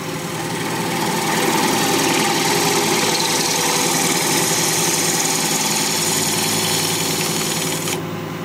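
Wood lathe running steadily at about 1200 rpm during a turning job on cork, giving a continuous close motor hum and whir that holds even for the whole stretch with no talking.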